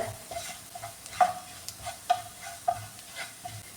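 Kashmiri chili and spice powders being heated in a pan, with a soft steady sizzle and a few distinct scraping stirs of a spoon against the pan, close and fairly quiet.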